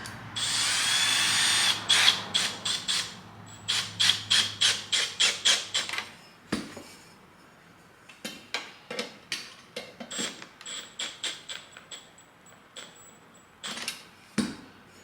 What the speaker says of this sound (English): And let's tighten this hose clamp.